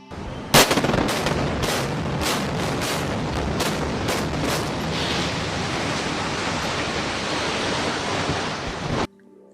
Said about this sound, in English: Now listen to a 14-story building being demolished using controlled demolition.